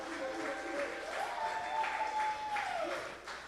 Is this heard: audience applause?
yes